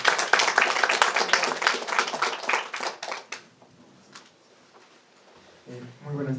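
An audience at an evening talk on Arguedas and Peruvian education claps briskly and loudly for about three seconds, then the applause trails off into scattered claps before a voice begins speaking.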